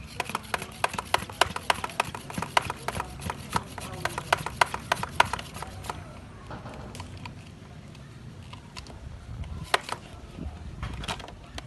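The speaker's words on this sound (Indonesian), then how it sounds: "Kita pompa dulu." A hand pressure sprayer filled with organic pesticide is pumped by hand in a garden: a rapid run of sharp rhythmic strokes that slows into a few scattered clicks, close and fairly loud.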